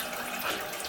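Tap water runs steadily into a sink, a broad continuous rushing splash that stays loud and close for the whole short moment, with no talking.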